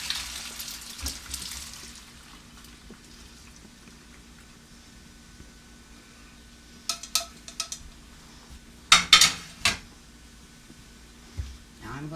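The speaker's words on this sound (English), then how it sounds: "Now I'm going to drain them." Cooked cabbage is drained from a pot in a home kitchen, heard as a few short sloshing bursts and pours of water against quiet background room noise.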